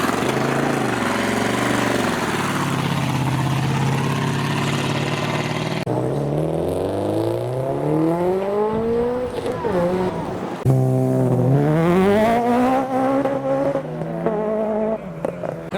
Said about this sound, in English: Not only does this have a massive Hemi V8, but it's got a large Garrett turbocharger installed as well.